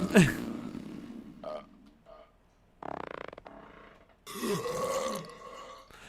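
A voice makes a series of burping sounds, from a long loud belch at the start to shorter croaky belches later, with quiet gaps between them, in The Long Drive game.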